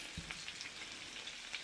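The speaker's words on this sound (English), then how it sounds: "Okay, I'm frying banana again." Banana slices fry in a pan with a soft, steady sizzle and scattered small pops and crackles, close and fairly quiet with no talking.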